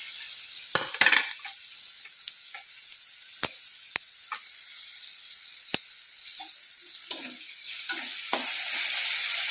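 Chopped ginger, garlic and onion sizzle steadily in a hot pan, a constant bright frying hiss with sharp ticks and scrapes of stirring scattered throughout, growing slightly louder near the end.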